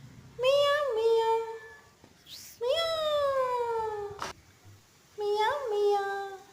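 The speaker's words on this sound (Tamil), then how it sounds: "மியா மியா பூனை மீசையுள்ள பூனை மியா மியா" A cat meows three times, loud and close, each a drawn-out, wavering cry separated by short pauses, with faint background noise between them.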